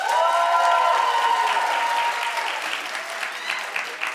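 A crowd bursts into loud, sustained applause, many hands clapping at once, tapering slightly toward the end.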